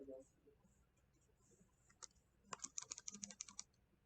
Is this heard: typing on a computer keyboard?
yes